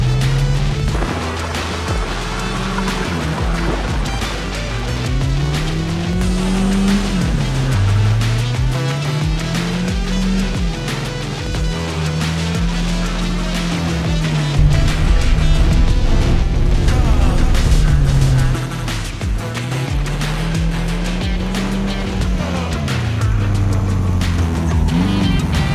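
A car does donuts, its engine revving in repeated rising and falling surges over a steady loud roar of tires and exhaust, close and sustained throughout.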